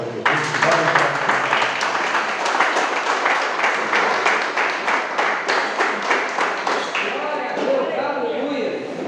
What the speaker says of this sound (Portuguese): dê um louvor de palmas para Jesus